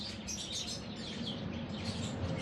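Pet parakeets chirp continuously in high, twittering calls over a steady broadband background hiss, fairly close and moderately loud, with no talking.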